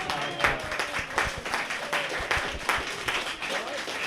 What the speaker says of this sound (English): round of applause for our champ, Floyd